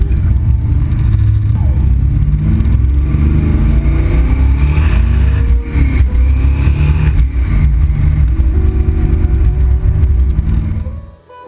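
A blown 1964 Corvette engine roars loud and continuous with a low rumbling growl, revving and surging steadily for about eleven seconds before cutting off abruptly at the end.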